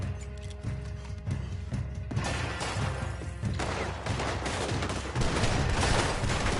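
Rapid gunfire rattles in Red Dead Redemption 2, with bursts of shots that grow denser and louder partway through, heavy and close, with faint voices beneath the shooting.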